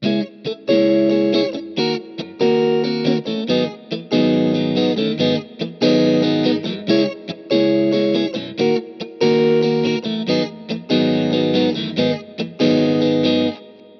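An S-Classic electric guitar on pickup position 4, clean tone straight into the amp, plays chords and short rhythmic strums, steady and moderately loud with brief gaps between phrases.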